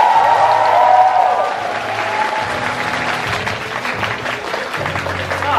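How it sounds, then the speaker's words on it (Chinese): An audience at an improv comedy show bursts into loud, sustained applause and cheering, with a raised voice over the clapping at the start. "掌声欢呼声有请 ，Stone"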